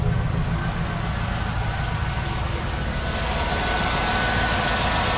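Steady low rumble of a 2006 GMC Sierra 1500 SLE short box pickup engine idling just after a cold start, continuous and even with broadband mechanical hum throughout, no voices.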